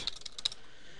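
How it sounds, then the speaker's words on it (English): A few quick, faint keystrokes on a computer keyboard, soft clicks close together, then quiet. "So let's type in a question."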